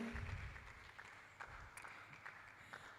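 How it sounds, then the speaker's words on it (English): Audience applause at a live student entrepreneurship summit, a steady wash of clapping throughout, moderately distant and even in level. "Please keep on clapping until she comes right up."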